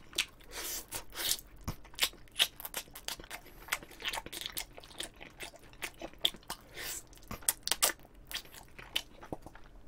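Close, crunchy chewing and biting of Pericana seasoned fried chicken, wet bites and crackly crunches coming in an irregular rhythm, loud and near with no talking.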